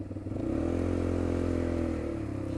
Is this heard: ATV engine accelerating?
yes